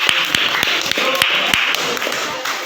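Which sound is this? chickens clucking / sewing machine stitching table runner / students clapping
students clapping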